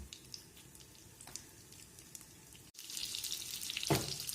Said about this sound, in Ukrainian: Бачите, як вони печуться.